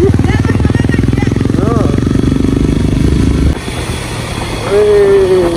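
A motorcycle rides along a road, its engine a loud, close, rapid pulsing drone that drops in level partway through, with people talking over the ride.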